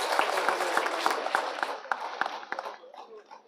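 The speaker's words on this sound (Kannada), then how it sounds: "ಎಲ್ಲರೂ ಜೋರಾಗಿ ಕೈ ಚಪ್ಪಾಳೆ ತಟ್ಟಿ ಅವರನ್ನು ಮುಂದೆ ಬರಮಾಡಿಕೊಳ್ಳೋಣ" A church congregation claps loudly to welcome honourees at a feast-day Mass: dense, sustained applause from many hands that gradually thins and fades toward the end.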